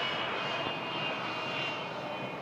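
Airplane engine at Toronto Pearson airport, a steady loud broadband roar with a whining tone, constant throughout the short stretch with no talking.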